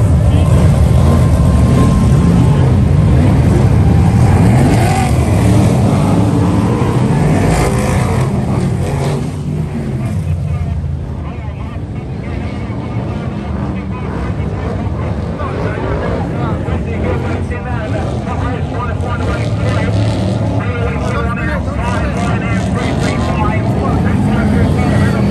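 Stock cars racing at Northampton in a 23-car field, a loud continuous roar of many engines passing and droning, with people talking over the din throughout.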